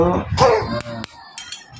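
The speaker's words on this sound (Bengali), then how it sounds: "কাশছো কেন?" A short cough or throat-clear from a person, one or two quick bursts near the mic amid brief speech and a sharp knock in a home.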